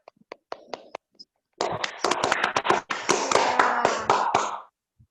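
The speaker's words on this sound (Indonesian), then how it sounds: "Tepuk tangan dulu buat Pasya." Schoolchildren in a classroom clap for a classmate, starting with a few sparse, separate claps and then swelling into a burst of quick, close, crisp clapping that stops abruptly.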